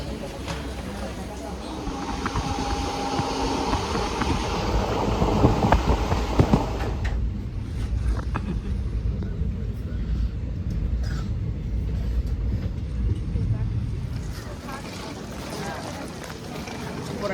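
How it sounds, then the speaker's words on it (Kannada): A train pulls through a busy station at night, a heavy, steady rumble with broadband roar filling the whole stretch, swelling slightly midway and easing toward the end, with crowd noise beneath. "ಟ್ರೈನ್ ಬಂತು, ಇವಾಗ ಹೊರಟಿದ್ದೀನಿ"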